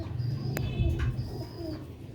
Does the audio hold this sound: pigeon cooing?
yes